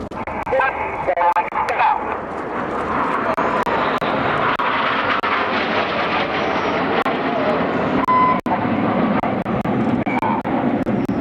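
Seven Red Arrows jets fly a synchronized aerobatic roll display with colour smoke, their engines making a loud, continuous roar that fills the air while a commentator talks over it.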